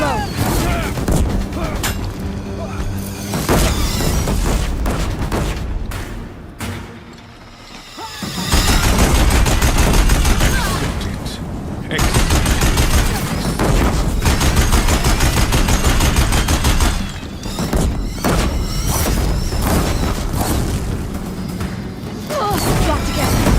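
In Horizon Zero Dawn, Deathbringer machines keep up loud, continuous gunfire with booming impacts and crashes, easing off briefly before another heavy barrage, and voices come and go beneath the combat.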